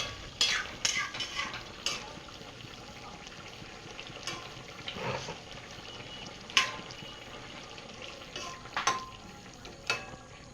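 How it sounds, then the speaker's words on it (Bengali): Rohu fish curry with okra being stirred in a sizzling pan, repeated scraping spatula strokes and clinks of utensil on metal over a steady frying hiss, close by and with no voices. "নাড়ি নাড়ি দেব আমরা"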